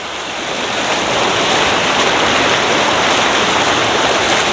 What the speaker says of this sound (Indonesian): Karena deras banget ini alirannya tuh.